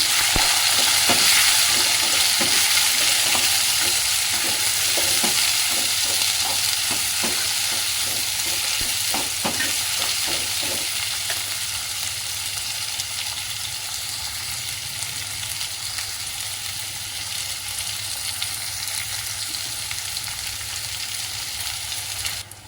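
Onions, garlic, ginger and green chillies frying in a pan for a Punjabi kadhi, a loud dense sizzle with quick rattling stir strokes early on that settle into steady frying.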